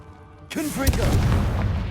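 A Confringo blasting curse from Hogwarts Legacy bursts into a booming explosion partway through, following a quieter lead-in and leaving a dense, sustained rumble of debris and fire.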